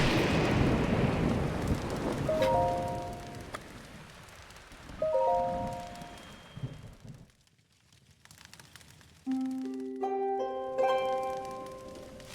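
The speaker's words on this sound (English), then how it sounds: "It's still raining. In fact, it's raining even harder." Steady rain hiss in Zelda: Breath of the Wild, heavy and continuous with a low rumble, broken by short plucked tonal chimes and a brief drop-out before the downpour resumes with more game tones.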